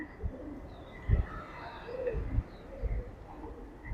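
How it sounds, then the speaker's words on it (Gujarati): Pigeons coo inside the old Bala stepwell in Amreli district, Gujarat, giving soft, low, repeated coos at uneven intervals over faint ambient noise. "જો આવી ગયા ને બધા કબૂતર પાછા"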